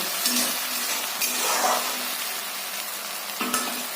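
A spoon stirs garlic, green chili and ginger paste into frying onions in a pan, with a steady close sizzle and occasional scrapes and clinks of the utensil.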